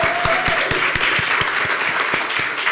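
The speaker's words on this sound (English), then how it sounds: "let's give a round of applause to Bob" A meeting audience applauds loudly and close by, dense continuous clapping with sharp individual claps standing out in an irregular rhythm.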